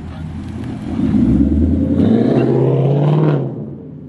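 A brand-new Ford Mustang with straight pipes revs loudly up close, its deep exhaust rumble swelling into a sustained roar for a few seconds before dropping back to a throaty idle.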